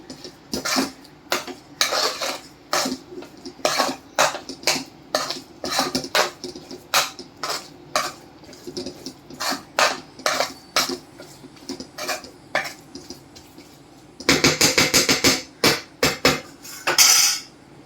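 A spoon scraping and clanking rhythmically against a pan while stirring pithla with finely chopped coriander, with strokes spaced evenly and then quickening into a dense burst near the end, and no voice.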